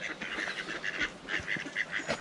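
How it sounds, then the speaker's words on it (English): Ducks on a nature-trail pond quack in a rapid series of repeated calls, fairly faint and somewhat distant, with no talking. "There's lots of ducks in there."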